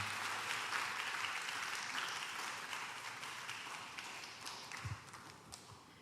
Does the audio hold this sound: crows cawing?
no